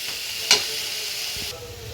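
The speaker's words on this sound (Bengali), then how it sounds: "আর অল্প একটু গোলমরিচের গুঁড়ো দিয়ে মিশিয়ে নিই" Noodles are stirred with ground black pepper in a pan, a soft sizzle and hiss with a sharp scrape of utensil near the start and gentle stirring after, close and continuous.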